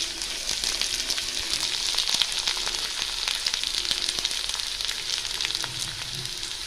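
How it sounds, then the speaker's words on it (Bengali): Black cumin seeds and a halved green chili frying in hot oil over lightly browned potatoes, giving a steady, close, continuous sizzle with small crackles throughout and no talking. "এর মধ্যেই আমি কালো জিরে দিচ্ছি ফোড়ন"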